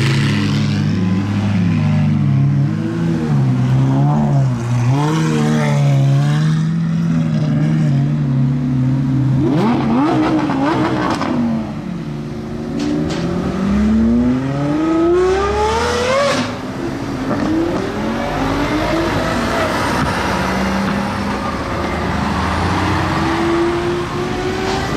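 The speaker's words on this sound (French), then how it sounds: "Écoutez, Formule 1." Formula 1 race car engine howling through rising and falling revs, with sweeping high-pitched pitch climbs as it accelerates and passes; loud, sustained and without talk.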